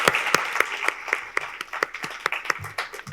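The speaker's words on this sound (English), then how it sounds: "let's applaud and cheers" Audience applause at a livestreamed founders event, a small crowd clapping with distinct individual claps in a loose, fairly regular rhythm, close and moderately loud.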